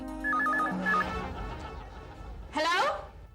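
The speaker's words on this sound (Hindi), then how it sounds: "घंटी बज रहा है।" A telephone bell rings in short repeated bursts, loud and close, broken by brief pauses, and a voice speaks in between and right after the rings.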